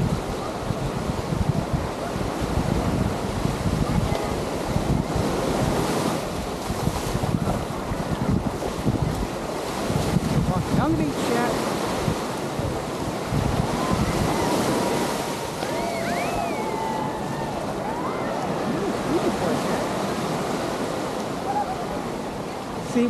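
Ocean surf washes steadily onto Waikiki Beach, a continuous rushing wash of breaking waves mixed with gusty wind buffeting the microphone, with no voices.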